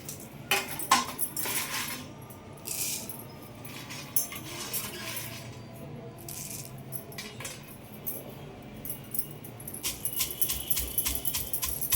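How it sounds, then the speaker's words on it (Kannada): Peeled peanuts drop into a mortar for North Karnataka peanut chutney powder, a long run of close clattering, ringing taps and small metallic jangles, busier at the start and again toward the end. "ಇವಾಗ ನಾನೊಂದು ಇದು ಕುಟ್ಟಣಿಗೆ ತಗೊಂಡಿದ್ದೀನಿ, ಅದಕ್ಕೆ ಹಾಕ್ತೀನಿ ನೋಡಿ"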